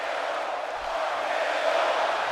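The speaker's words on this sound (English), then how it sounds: "Listen to this crowd." A large arena crowd roars steadily in the video game WWE 2K17, a dense, continuous wash of cheering that swells slightly toward the end.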